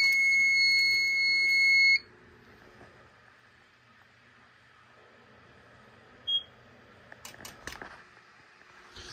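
A Simplex voice evacuation fire alarm sounds a loud, steady electronic tone for about two seconds, then cuts off abruptly, leaving a quiet room with a faint hum, a short beep and a few scattered clicks.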